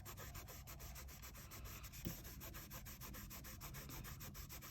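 Steady soft rubbing of a paper rose petal, a continuous faint scratchy friction sound with a slight brushing rhythm, close and quiet throughout.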